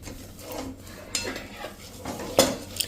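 A spoon scrapes and stirs through a thick fenugreek mixture roasting over a slow flame in a metal pan, with a couple of sharper clinks against the pan's side.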